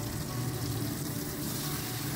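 Tomato frying in mustard oil in a wok with black cumin seeds and dried red chillies, giving a steady, soft, even sizzle throughout with no talking.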